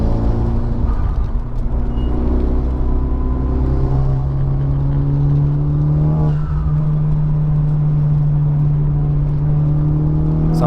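Honda Civic Type R engine driven hard on the Road Atlanta circuit, a loud steady high-revving drone with shifting harmonics and a brief dip around a gear change, continuous for the whole stretch with no talk.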